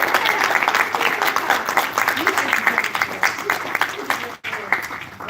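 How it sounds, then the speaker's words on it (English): An audience gives a sustained round of applause at a live event, dense steady clapping that dips briefly near the end before picking back up. "how about another round of applause before we move on?"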